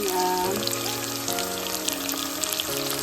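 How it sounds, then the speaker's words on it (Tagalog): Garlic and onion being sautéed in a pan for Thai massaman beef, giving a lively, close sizzle and spatter that continues steadily under background music, with no talking. "Sinusutay ko na yung garlic, onion, at saka yung ating"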